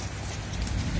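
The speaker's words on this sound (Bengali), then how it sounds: "তো প্রচন্ড বৃষ্টি চলতেছে।" Heavy rain falling steadily, a dense continuous patter on surfaces with no pauses.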